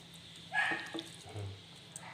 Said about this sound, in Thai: น้องสุนัข